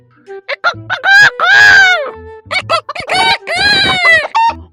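A person imitates a chicken, clucking and crowing loudly in an exaggerated, cock-a-doodle-doo style at close range, set at a chicken shop as part of a comedy sketch.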